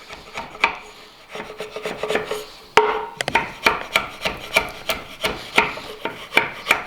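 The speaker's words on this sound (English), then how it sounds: "if your chisel's nice and sharp, a lot of times you could just run it right in there easy enough" A sharp chisel scrapes and pares waste wood from a timber frame tenon, with rasping strokes that are irregular at first and then settle into a steady, close rhythm of about one stroke every half second.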